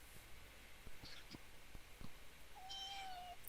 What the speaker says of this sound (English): I'm gonna let you hear this kitty witty.